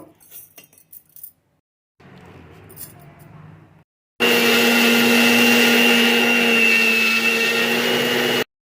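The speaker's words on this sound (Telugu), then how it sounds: "ఆవాలు మెంతులు మనం గ్రైండ్ చేసుకున్నాము" Mixer grinder grinding mustard seeds and fenugreek in a grinding jar: a brief lower whir, a pause, then a loud steady high-pitched motor roar for about four seconds before it stops, preceded by a few clinks.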